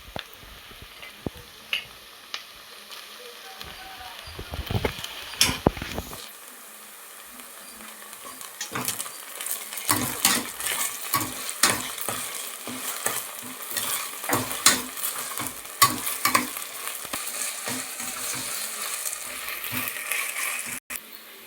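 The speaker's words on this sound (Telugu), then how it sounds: "ఉల్లిపాయలు పచ్చిమిర్చి అల్లం వెల్లుల్లిపాయ పేస్ట్ బాగా వేగినాయి కదండి" Onions, green chillies and ginger-garlic paste fry in a pan for mutton curry, with a steady sizzle under repeated scraping and stirring strokes from a spatula. The scraping is close and rhythmic and grows busier in the second half.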